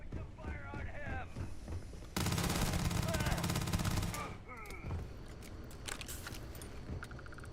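Gunfire in the video game Starfield, a dense loud burst of rapid shots in the middle, with scattered sharper reports around it and a player talking over the action.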